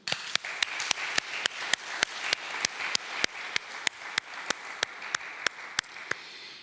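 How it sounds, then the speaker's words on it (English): An audience at a panel discussion event applauds with a steady, evenly spaced rhythmic clap over a continuous wash of hands, holding an even level throughout. "I think we'd all like to have a round of applause for all of you now."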